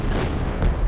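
Artillery fire in a video game: a deep, rumbling boom swells near the end of a short, dense stretch of low roaring noise, with no talking.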